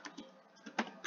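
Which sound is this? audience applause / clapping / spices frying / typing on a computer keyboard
typing on a computer keyboard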